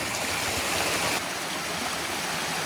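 A stream flows toward a small Pelton turbine built from a hoverboard, a loud, steady, close rush of water that changes tone slightly partway through, with no speech.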